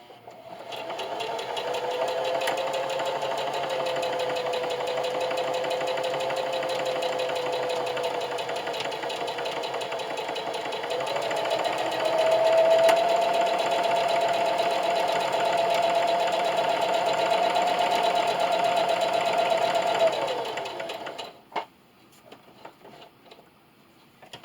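A sewing machine stitches a buttonhole in a towel, humming steadily at close range for about twenty seconds, its pitch stepping up partway through before it stops and a few clicks follow.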